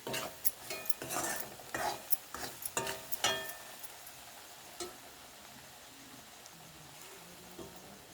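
Masala roasting in a pan for egg biryani, stirred with a utensil: several seconds of quick, loud scraping strokes, then a softer steady sizzle with occasional light taps.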